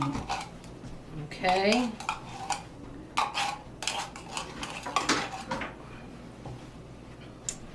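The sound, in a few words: scraping contents out of a can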